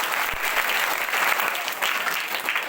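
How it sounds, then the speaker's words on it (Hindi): Schoolchildren in a classroom clap loudly and steadily for a classmate, a thick sustained applause with no pauses. "एक तालियों की आवाज घर तक जाना चाहिए."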